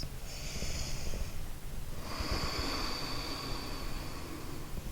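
Heavy, steady breathing through the nose during a held head-below-heart inversion in a Hatha yoga class: a long, airy exhale-like rush, a brief pause, then another drawn-out breath, close and continuous.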